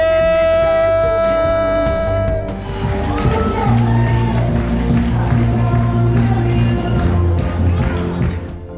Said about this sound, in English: big round of applause for Mr. and Mrs. Mario and Victoria Lugones